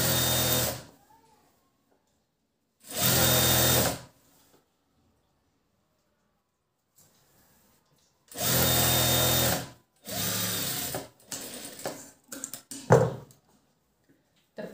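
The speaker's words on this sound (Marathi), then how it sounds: "आणि आता याच्यावर आपण टिप मारून घेऊया" An electric sewing machine stitches lace onto cloth in several separate motor runs. Each run is a loud whirring burst lasting about a second, separated by quiet pauses, with shorter choppy bursts near the end.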